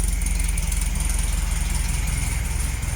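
Classic VW Beetle engine running during a revival attempt, a steady close-up rhythmic idle putter with a faint rattle and a constant high whine, no voices.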